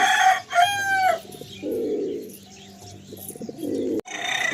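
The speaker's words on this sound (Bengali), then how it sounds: "কত সুন্দর দেখুন, আর বিগ সাইজ পায়রা।" Big Madrasi pigeons in a home loft coo in deep, throaty bursts, close and fairly loud, with a few bird calls and brief pauses between the rolling coos.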